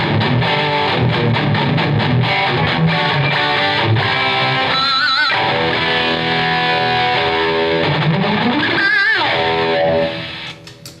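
Electric guitar played through a Blackstar amp at maximum gain with the boost engaged and a 6L6 power-tube setting, giving loud, heavily distorted riffs with chugging palm-muted chords and a couple of sliding swells before the sound cuts off abruptly.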